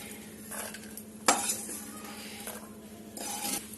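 Roasted makhana (fox nuts) being scooped out of a pan, with a sharp spoon-on-metal clink followed by scraping and rustling stirs, quiet and close, with a softer scraping burst near the end.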